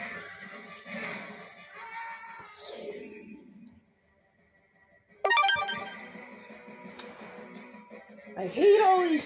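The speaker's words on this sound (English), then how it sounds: "I hate all these stupid notifications I keep getting" Phone notification tones chime during a Twilight Princess gameplay session, a couple of short bright alert sounds over game audio, with a brief near-silent gap between them.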